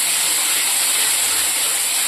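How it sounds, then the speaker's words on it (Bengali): Masala with green chilli sizzling in hot oil in the pan for a chicken curry, a loud, steady, bright hiss that stays even throughout with no voices. "মশলাটা আমি ভালো করে ভাজবো।"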